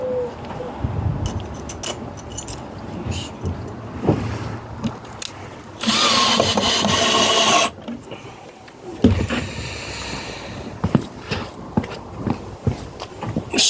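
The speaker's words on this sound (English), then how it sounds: "So we'll just screw that onto here now." A power tool whirs for about two seconds as a screw drives a bracket onto a machine, surrounded by handling clatter and small knocks, with a second fainter whirring burst shortly after.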